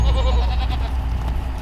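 Kiko goats bleating at feeding time on a farm, a short wavering bleat close by over low rumbling background noise, no talk.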